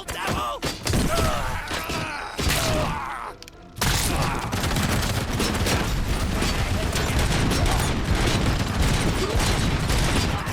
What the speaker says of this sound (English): That's a goddamn machine gun.